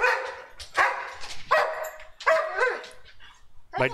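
A dog barks close by in a quick series of five or six sharp, loud barks with brief yipping, whining tones between them.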